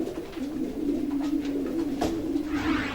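Young racing pigeons coo steadily in a dim bottom loft, a continuous close, low murmuring drone with no talk over it.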